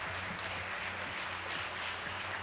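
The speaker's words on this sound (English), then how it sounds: "Many people, I believe, are applauding out of a deep impression by the announcement" A large audience applauds an announcement of a government policy roadmap, steady dense clapping filling the hall without a break.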